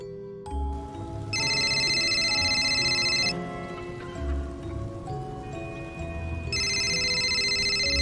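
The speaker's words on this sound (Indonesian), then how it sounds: "tiba-tiba, ada pesan masuk ke HP Siti" A cartoon phone chimes with an incoming text message, bright repeated electronic tones sounding in two bursts over quiet background music with no talking.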